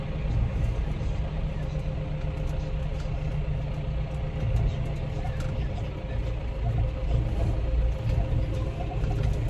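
An ArtsWay feed mixer truck on a cattle farm runs with a steady, low diesel rumble heard from inside the cab, and a person talks over the engine noise.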